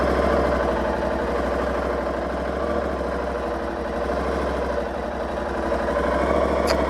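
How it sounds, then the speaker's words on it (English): An Aprilia Tuareg 660 motorcycle engine runs at a steady, even drone with a low throbbing hum during a ride, close and continuous with no talking. "riding my motorcycle."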